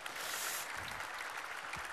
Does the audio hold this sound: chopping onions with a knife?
no